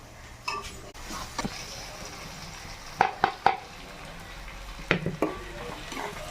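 Masala spices stirred into hot ghee in a pan for Nellore-style fish curry, with a low steady sizzle and a few sharp clinks and scrapes of a spoon against the pot.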